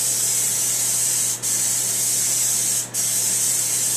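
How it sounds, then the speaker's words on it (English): An aerosol can of John Deere Blitz Black spray paint hissing in a continuous loud, close spray, broken by two brief pauses between passes. "Oh yeah, look how well this new can sprays."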